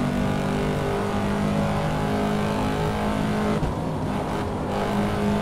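Corvette C7 Stingray engine in the Assetto Corsa racing game, a loud, steady, continuous drone of high revs with a brief dip in pitch near the end, no talking.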